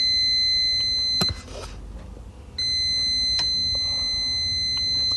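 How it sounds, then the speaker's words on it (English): Steady high electronic beeping from a shorted, disfigured capacitor on an iPad Air logic board, with a sharp click as the tone briefly drops out before it resumes. "there's one of the cap here that is beeping"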